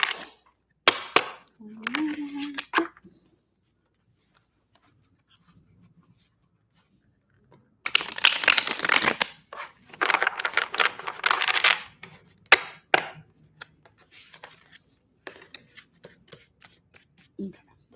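A deck of tarot cards is shuffled by hand in several close, crisp bursts of riffling and flicking, separated by quiet pauses, with brief speech at the start and a few soft taps between.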